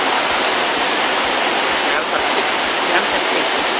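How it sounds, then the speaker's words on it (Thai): Waterfall over ten metres high with several tiers at Wat Tham Mueang in Thailand, a loud continuous broadband rush of falling water heard close, steady throughout with slight surges. "สูงประมาณสิบกว่าเมตรนะจะมีน้ำไหลลงมาตกไหลลงมา"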